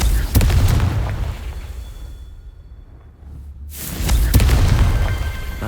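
In Hogwarts Legacy, a Confringo fire spell explodes with a heavy booming burst, followed by a quieter lull and then a second loud rumbling blast, close and powerful.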